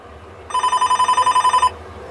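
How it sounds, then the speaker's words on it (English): A BT telephone box phone rings in one steady burst of about a dozen rapid, evenly pulsed electronic trills, loud and close, with no talking over it. "this should start ringing."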